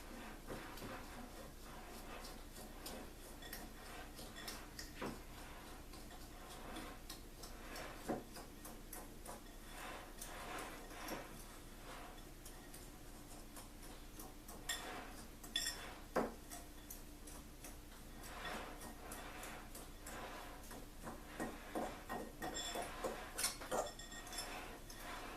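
Clumps of brown sugar struck against the side of a bowl while preparing pumpkin pie, giving sparse irregular clinks and ticks, quiet and close with faint kitchen noise between hits.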